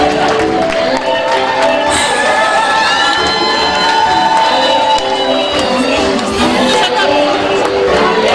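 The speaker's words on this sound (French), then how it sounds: "et faire des tonnerres d'applaudissements" Wedding guests cheer and applaud the newlyweds at a Congolese-style celebration, a loud, dense crowd roar of shouts, high whoops and children's cries over continuous clapping, sustained throughout.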